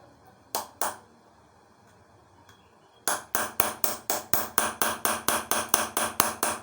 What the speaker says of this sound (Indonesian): Kita menggunakan pahat yang paling lebar ya